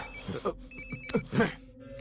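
A phone rings indoors in a tense domestic scene, short electronic trill bursts at moderate level over faint background voices and room noise.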